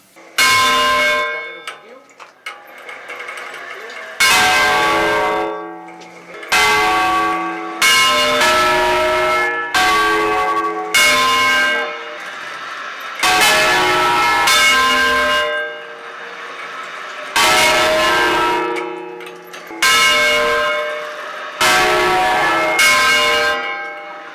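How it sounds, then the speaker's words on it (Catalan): Church bells peal for a funeral in a tolling pattern, with loud ringing bursts repeating at irregular intervals and short gaps of quiet between them. "I després tornaves a fer els 2 o 3 repics en totes les campanes"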